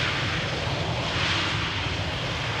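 Aircraft landing on the Polderbaan runway at Schiphol, a steady broad roar of engines that holds at an even, moderately loud level throughout with no voices.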